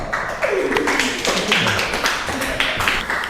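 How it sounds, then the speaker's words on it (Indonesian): An audience of students in a classroom session claps in a loose, continuous patter, moderately close, with a few voices speaking over it. "Tepuk tangan dong."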